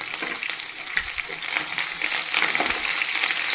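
Fenugreek seeds, garlic and curry leaves fry in hot oil for a tempering, a steady dense crackling sizzle close by with small pops throughout, alone without talk.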